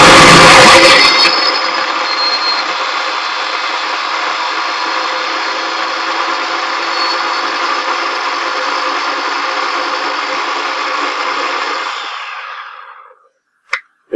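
Food processor grinding garlic and rosemary leaves into a pulp, a loud, even whirring that runs for about twelve seconds, then winds down and stops, followed by a couple of faint clicks.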